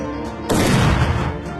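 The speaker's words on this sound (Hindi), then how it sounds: "बॉस गोली में गोली चलाने लगा, पर बाबा पलटियां मारकर बच गए।" Cartoon gunfire from a boss shooting repeatedly: a loud, dense burst of shots erupts after a quiet start, lasts under a second, then fades out.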